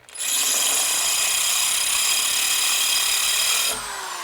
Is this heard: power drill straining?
yes